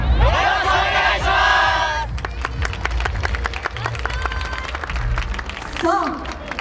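Crowd at a yosakoi dance festival performance claps and cheers, with shouted calls and rhythmic percussive hits over a dense, steady background, loud and fairly close, briefly joined by voices.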